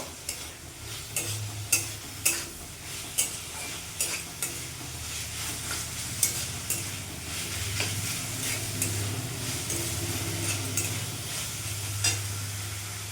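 Banana flower curry with ginger-cumin and green chilli paste is stirred in a pan over a medium flame, a steady sizzle beneath regular scraping strokes of the spoon, close and alone.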